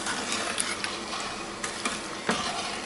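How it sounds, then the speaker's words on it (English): A wooden spoon scrapes and stirs chili flakes in a pan over medium heat, giving a continuous gritty rustle with a light sizzle and a few sharper scrapes and knocks against the pan. "Start that on medium heat and just stir it up with a wooden spoon"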